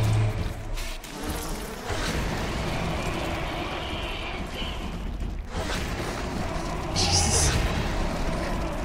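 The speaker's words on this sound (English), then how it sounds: "So many bees!" A swarm of bees buzzes in a dense, continuous drone in the video game Bioshock, with a player talking excitedly over it throughout.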